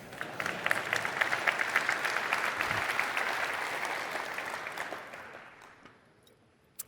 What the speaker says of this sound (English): you're free to clap at any time if you like